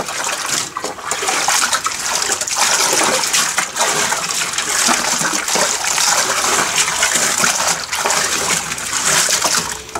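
A Consul 9kg washing machine, model CWB09AB, empty on its first run, fills with water to rinse: a steady, loud gushing rush of water that continues for the whole stretch with no talking.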